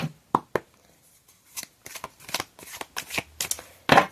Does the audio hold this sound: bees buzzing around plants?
no